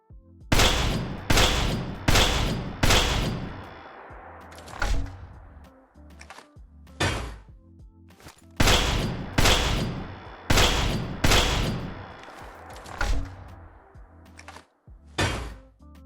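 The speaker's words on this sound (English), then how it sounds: "This is going to be a brand new energy weapon, sort of a break action laser shotgun" Charity, a break-action laser shotgun mod weapon in Fallout 4, fires in sharp loud bursts, several rapid shots in a row followed by clunky reload and mechanism thunks, repeated in two cycles.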